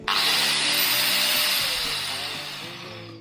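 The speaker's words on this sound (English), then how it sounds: "you can always move up to the angle grinder" A loud, steady high-pitched whine and grinding hiss of an angle grinder running close by, slowly easing off toward the end.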